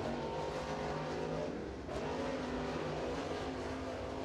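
Crate race car circling Crossville Speedway during qualifying, its engine a continuous droning roar heard from a distance that swells slightly as it comes past.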